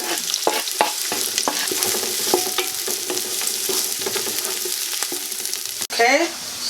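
Chopped onion hits heated oil in a pan and fries with a steady, close sizzle, broken by scattered clicks and scrapes of stirring, with a brief clatter near the end.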